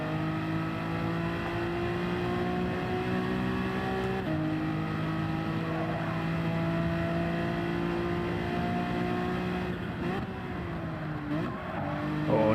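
Race car in the iRacing simulator, a sustained engine drone whose pitch rises and falls with shifts and corners, steady and close throughout with no talk.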